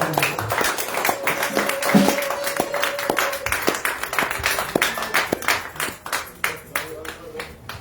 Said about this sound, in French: Acclame pour Jésus-Christ